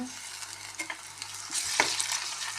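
Ginger garlic paste frying in a pan for a carrot bhaji, with a steady close sizzle and a few scraping stirs, a louder stroke near the end.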